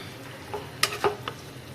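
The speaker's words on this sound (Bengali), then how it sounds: "শাক ভাজার মতো করে ভেজে নিতে হবে" A few scraping stirs of a utensil in a pan of frying spinach over a faint frying hiss, three or four distinct clacks, no talking.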